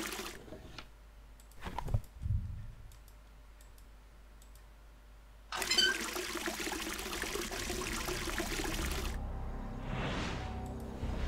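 In the Clockwork Tales video game, water pours and streams in a steady, moderately loud rush lasting a few seconds, preceded by scattered clicks and a soft thud.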